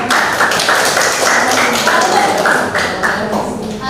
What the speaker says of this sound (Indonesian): tepuk tangan dari Bapak.